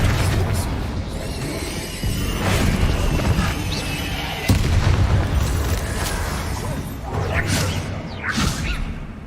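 Combat spells in the Hogwarts Legacy video game blast and whoosh in quick succession, loud booms and swishes with crashing impacts layered over a dense, continuous battle din.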